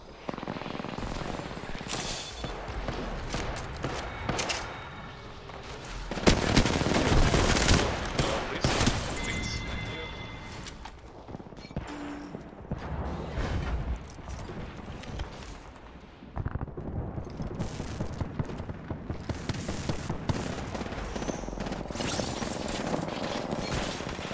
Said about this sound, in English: give him a warning shot.